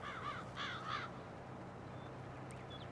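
Three loud crow caws in quick succession in the farming game Farming Simulator 22, close over a steady outdoor background hiss that continues after the calls stop.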